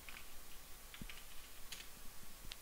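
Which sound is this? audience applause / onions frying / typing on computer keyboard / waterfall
typing on computer keyboard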